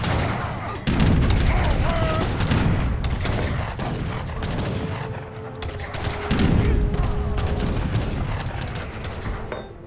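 Cannon blasts and musket gunfire rattle through a battle in the Age of Empires 3 video game, dense crackling volleys with heavy booms swelling and fading across the stretch, loud and continuous.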